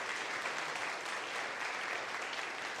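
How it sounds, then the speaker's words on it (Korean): A church congregation claps to welcome a student during a worship service, producing even, continuous applause of moderate loudness, heard alone throughout. "우리 박수로 환영해 주도록 하겠습니다"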